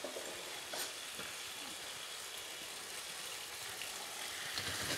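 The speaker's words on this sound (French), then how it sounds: "on commence à cuire notre shawarma fait maison" Homemade shawarma fries in a pan with a steady, close sizzle and hiss, faint overall, with a couple of soft utensil scrapes.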